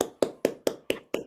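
A class applauds a student with six sharp, evenly spaced claps in quick succession, heard close up with no talking.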